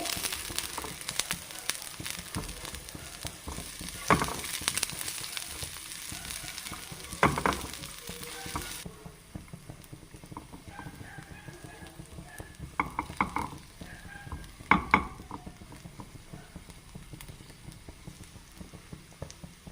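Sliced onion sautéing slowly in a pan for a red sardine curry, giving a steady close sizzle with intermittent spatula scrapes and stirs, louder in the first half and then settling into a quieter, softer fry.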